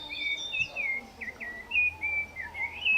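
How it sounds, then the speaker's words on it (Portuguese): Small birds sing and chirp in a Brazilian city park during a birdwatching outing, a steady run of bright, high whistled notes and tweets, fairly close and clear over low background hum, with no talking. "Apreciar mais de perto os pássaros."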